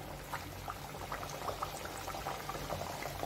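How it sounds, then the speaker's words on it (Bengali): Bhatura dough frying in hot oil, a steady low bubbling sizzle with small crackles and pops throughout, close and fairly quiet, no talking. "চলুন ভাজতে আরম্ভ করি"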